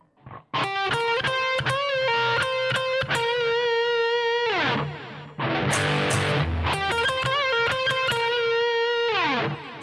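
A distorted electric guitar plays a fill from a song, based around the G blues scale, with fast sustained notes and a noisy burst midway, loud and alone with no voices.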